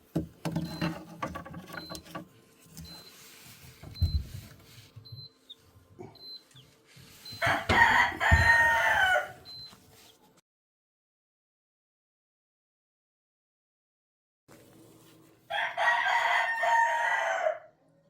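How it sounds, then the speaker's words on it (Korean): A rooster crows on a farm that keeps Lavender Araucana and blue-egg chickens, with two long clear crows separated by a quiet gap, amid earlier clucking and mechanical clatter. "숫닭입니다."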